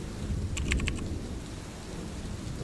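Steady rain hisses evenly throughout, a dense soft wash with no break, with a brief cluster of crisp ticking clicks near the start.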